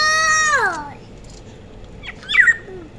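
Two pet birds call back and forth, starting with a loud harmonic call that slides downward, then a pause, then a shorter squawky burst.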